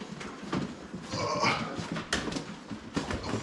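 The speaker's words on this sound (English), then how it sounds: "A bunch of screaming puppies." Several American Bully puppies whimper and yelp in a close, continuous chorus of high, squeaky cries.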